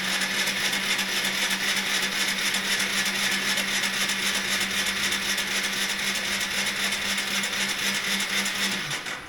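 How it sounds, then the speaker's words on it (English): A starter motor cranks the engine of an old Yamaha SR125 motorcycle, a barn-find project bike. The whirring, droning churn runs steadily and loudly for about nine seconds without catching, then cuts off at the end. "Starter motor turns the engine over."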